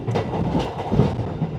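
A passenger train on Indonesia's Manahan service rolls along the rails with a steady, close, dense rumble and faint wheel clatter heard from inside the carriage, with no talking.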